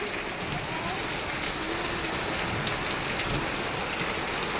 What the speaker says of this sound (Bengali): এখন এত পরিমাণে বৃষ্টি হচ্ছে